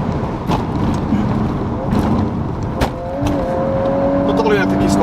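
Volkswagen R car with 320 horsepower driving fast on a clean forest asphalt road, a steady loud engine roar with rising revs and tire noise, people talking over it inside the cabin.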